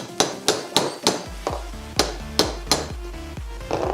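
Sharp metallic hammer strikes on a chisel used to punch out a cotter pin, about a dozen blows at a steady rhythm, close and clear, some ringing briefly after each hit.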